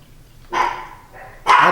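Dogs bark in two loud, sharp bursts with a quieter yip between them, close by and with no talk over them.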